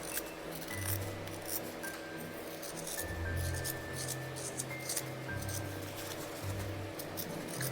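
Steady snipping of scissors trimming the seam allowance on fleece fabric for a dog's bubbly button hat, quiet and close, with faint rubbing and handling of the material between cuts.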